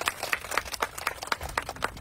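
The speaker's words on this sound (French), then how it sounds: "Applaudissez pour elle." A small group claps for a young girl at home in an irregular, moderately close patter of hand claps over roughly two seconds, with no voices.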